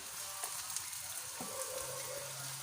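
Paratha sizzling in cooking oil on a griddle, a soft, even frying hiss up close with a faint scrape partway through.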